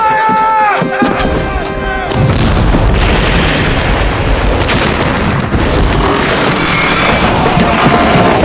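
Ship's cannons firing in a naval battle aboard a sailing warship, a loud sustained roar of booming blasts and rumbling after a brief shouted order, dense and overwhelming.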